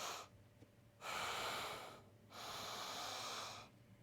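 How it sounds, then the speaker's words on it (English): Slow, deep breaths during a stretching exercise class that opens the shoulder blades: two long airy exhales alternate with quieter inhales, close-miked but soft, with no speech. "I'm breathing in and out"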